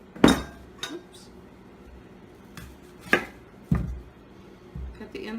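A knife chops a red onion on a cutting board, giving a few sharp, separate strikes spaced a second or so apart, with soft handling noise between them.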